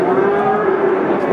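A cow moos in one long, loud, steady low call that fills the whole moment, with no talking over it.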